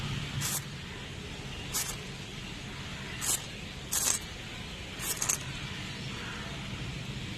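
Lubricant sprays onto the rear brake pedal of a Bajaj Dominar 400 motorcycle in five short hissing bursts spaced a second or so apart over a steady background hum.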